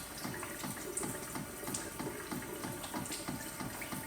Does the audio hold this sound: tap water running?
yes